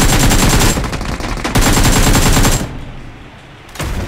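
Sustained automatic gunfire in the battle game PUBG Mobile, loud and close, in continuous rapid bursts that break off briefly, then drop away to a quieter lull before another burst returns.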